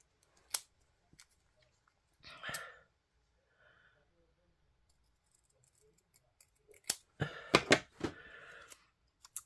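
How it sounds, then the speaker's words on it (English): Scissors trim a printed paper card in a papercraft setting. A few quiet snips and paper rustles are heard close up, with long silent gaps and a busier cluster of cutting sounds near the end. "which I'll just trim down."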